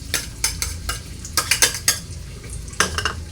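Onion and garlic sauté in a pan for a sardine dish, with a faint sizzle under sharp, irregular clinks and scrapes of a metal utensil against the pan, close by.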